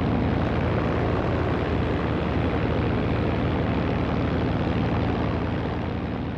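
A Curtiss P-40 fighter of the RAF in North Africa in 1942, its piston engine giving a loud, continuous propeller drone that holds steady throughout with no voices over it.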